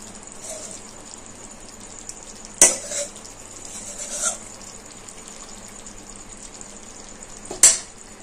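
A pot lid clanks down onto a pan of hilsa fish pulao on a home stove, two sharp metallic knocks several seconds apart over a faint kitchen hum.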